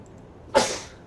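A single close, loud sneeze bursts out indoors, a sharp broadband blast that quickly trails off, with no talking around it.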